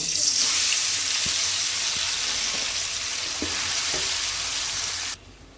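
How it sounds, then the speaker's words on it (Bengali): Hand-marinated beef sizzling in hot oil in a wok: a loud, steady, close hiss with a few faint knocks underneath, cutting off abruptly just before the end. "এখানে আমি কড়াইতে তেল দিয়ে দিয়েছি তেলগুলো গরম হয়ে গেছে এবারের মধ্যে হাতে মাখানো গরুর মাংসটা দিয়ে দিব"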